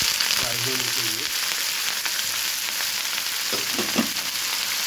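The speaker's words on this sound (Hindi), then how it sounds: "जो मैंने चीज़ें भिगोई थी, वो जो है तमाम मसाले, वो मैं तेल के अंदर डाल दूँगा फ्राई होने के लिए" Soaked spices hit hot oil for a chilli garlic pickle, giving a steady hiss and sizzle. Brief clinks and stirring scrapes from the pan come and go near the start and end.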